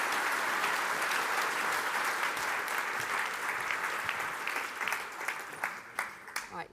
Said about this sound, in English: Can I have a round of applause, please, for Gordon Sanghera and Daphne Koller?